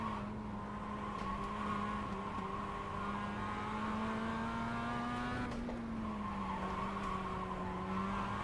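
Sustained tire skid from a race car braking hard in iRacing, a steady screeching squeal with a droning engine tone underneath, loud and continuous for the whole stretch with no talking.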